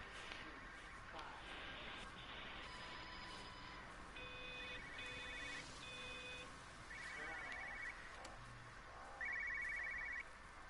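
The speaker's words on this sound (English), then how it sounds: "I sure can hear phone ringing." An electronic telephone rings in repeated short bursts in the video game Everybody's Gone to the Rapture, fairly close, over a steady background hum.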